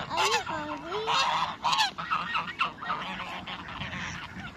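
Several ducks or geese at close range give loud honking, nasal calls in quick overlapping bursts, with a faint murmur of people in the background.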